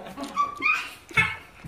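An angry pet dog gives short yips, whimpers and growly barks while getting a haircut at home, several close bursts within a couple of seconds.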